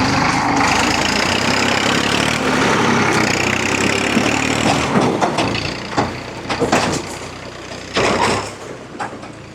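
A tractor labours along a rough road near a Shiva temple, its engine droning loudly and steadily before clattering, thumping bumps and rattles break in over the last few seconds.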